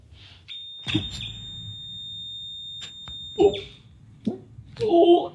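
A steady high-pitched electronic tone from an EMF detector alarm sounds continuously for several seconds, with scattered talk and movement noises around it.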